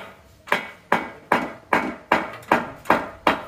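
A hard sawo wood mallet striking steadily at a workpiece, eight sharp, evenly spaced knocks about every 0.4 seconds, close and moderately loud with short decays.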